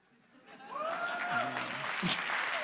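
An audience at a live-streamed Google tech talk claps and laughs after a pun. The clapping swells after half a second and holds steady to the end, mixed with chuckles and voices.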